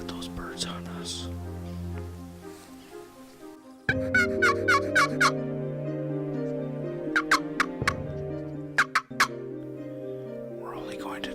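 Wild turkey gobbling on its own in the woods during a hunt, with several sharp rattling gobbles in bursts, fairly close and loud, over a steady low hum.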